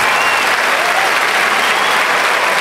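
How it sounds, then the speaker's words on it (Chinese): An audience at a Lukang folk song and poetry singing troupe's winter performance claps in sustained, dense, loud applause that stays even from start to finish. "请大家掌声鼓励一下好吗"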